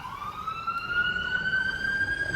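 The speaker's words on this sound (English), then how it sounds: "you're just going to have to deal with sirens and stuff like that" A wailing emergency siren sweeps upward in pitch, loud and steady over a constant hum of city traffic.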